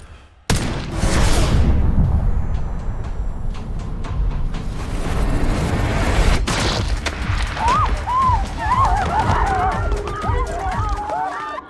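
A single sharp rifle shot in Call of Duty Black Ops 6 cracks loudly at the start, then a rumbling tail and bustling background with voices speaking later.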